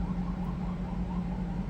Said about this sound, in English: Cop fucking sirens skitzing out.